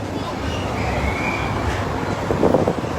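An MTA 7 subway train rumbles on elevated tracks overhead on a busy evening street in Queens, a steady low roar with street noise and a voice speaking over it.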